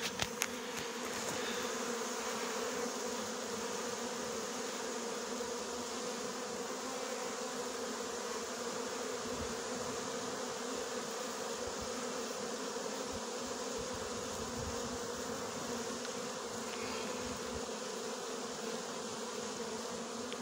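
Honeybee swarm moving into a hive after being brought down from a tree branch along with its queen: a dense, continuous, even buzzing of many bees close by, steady throughout with no talking.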